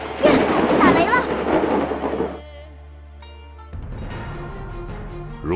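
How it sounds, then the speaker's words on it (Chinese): Loud, rolling thunder with heavy rain at Buzhou Mountain in the video game Chinese Paladin 4 fills the opening seconds, then fades to a quieter rain bed under soft music. "呀，打雷了！"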